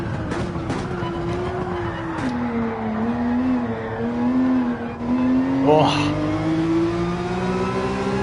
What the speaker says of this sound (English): Rev out this 911.